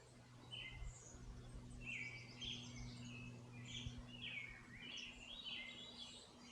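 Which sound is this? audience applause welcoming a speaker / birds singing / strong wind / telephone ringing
birds singing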